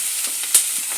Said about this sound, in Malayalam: നമുക്ക് എല്ലാം കൂടെ ഒന്ന് വഴറ്റിയെടുക്കാം